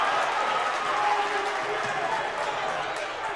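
Crowd noise at a college basketball tournament quarterfinal, Franklin vs. Berea, a loud continuous roar of cheering and applause filling the gym, steady throughout and easing slightly toward the end.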